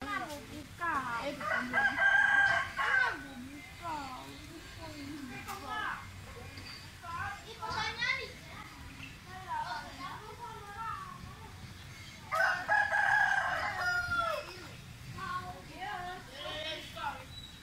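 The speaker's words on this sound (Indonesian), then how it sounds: "burung merak." A peacock calls at a tourist spot in Bukit Tinggi, West Sumatra, two loud wailing cries a few seconds apart cutting over nearby people talking and background crowd noise.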